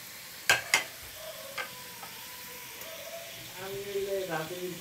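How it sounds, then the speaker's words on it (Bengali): Two large chopped onions for vegetable khichuri go into hot oil, with a couple of sharp clanks, a low sizzle and stirring that grows louder toward the end while a voice talks over it. "এখন এটাকে আমি একটু ব্রাউন করে ভেজে নেব"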